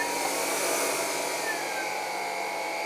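A Dreame Z30 cordless vacuum cleaner running in automatic mode gives a steady, high-pitched motor whine that stays even and close throughout, with no talking.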